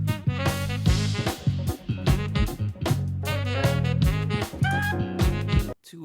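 Jazz fusion plays in a short, dense excerpt, with punchy drums and bass under bright melodic lines and chords, loud and continuous until a brief drop near the end.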